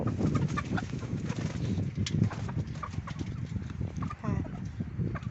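Hens cluck and mutter in a coop on a mixed farm in Thailand, a soft, steady chatter with occasional sharper calls, fairly faint and distant.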